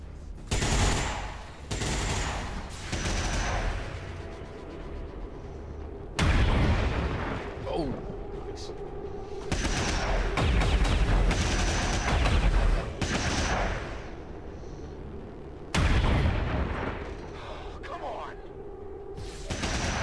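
Gunfire in the XCOM 2 video game, with repeated loud bursts and booming shots in clusters across the scene, mixed with game music and effects while people talk over it.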